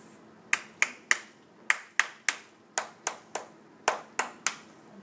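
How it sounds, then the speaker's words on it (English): A child in a music class claps a short rhythm, sharp dry hand claps in groups of three with brief pauses, close and clear with no talking. "Can you clap this?"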